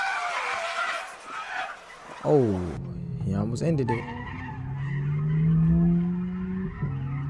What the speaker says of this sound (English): we are starting today's video off with these guys who just got caught street drifting